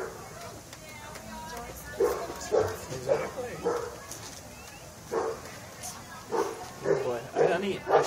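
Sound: dog barking

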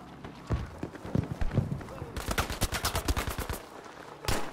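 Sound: gunfire in the video game Battlefield V

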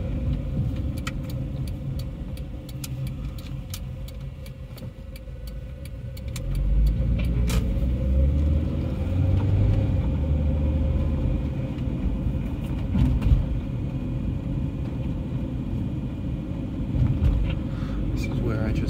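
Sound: 1996 Honda Orthia car driving and braking

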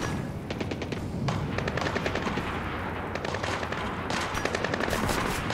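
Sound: silenced gunshots in video game Splinter Cell Blacklist

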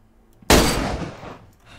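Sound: gunshots from the video game DayZ

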